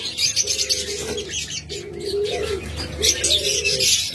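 Caged diamond doves coo in repeated low rolling phrases while budgerigars chirp and chatter brightly overhead, a steady close aviary chorus with no voices.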